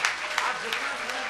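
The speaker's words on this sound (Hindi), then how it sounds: "तालियां बजेंगी।" Audience applause at a religious discourse gathering, a dense, steady wash of clapping from a crowd that holds evenly for a little over a second.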